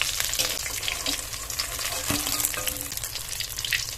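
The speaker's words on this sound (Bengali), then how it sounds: "তেল গরম হয়ে গেছে, মাছ দিয়ে দেবো" Salted fish fries in hot oil in a village-style kadai, giving a steady, close crackling sizzle with a few brief pops and a soft stirring clatter.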